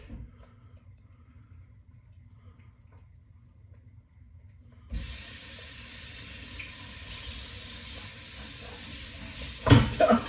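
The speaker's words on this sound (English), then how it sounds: "Let's see if I can rinse him off real quick." Running water from a tap gushes steadily over a freshly caught Dungeness crab on the Oregon coast, starting abruptly after a quiet stretch and ending with a brief splashing clatter.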